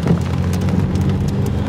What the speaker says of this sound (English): it started raining, and it's raining right now